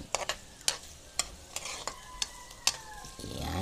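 Onions and garlic sautéing together in a pan, a soft sizzle broken by sharp scraping stirs and clinks of the utensil at irregular intervals, close and unaccompanied by speech.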